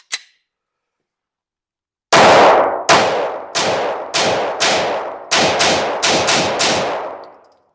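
A Ruger pistol fires 124 grain Federal rounds, one faint click first, then a pause and about ten loud, sharp shots at an uneven pace, some in quick pairs, each ringing out.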